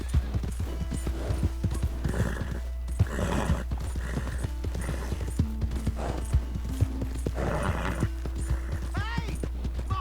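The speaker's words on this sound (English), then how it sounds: "I always like to take this horse back to town" Horse hooves clip-clop at a steady walking pace in Red Dead Redemption 2, moderately close, with a soft neigh and game music underneath, while someone talks over much of the passage.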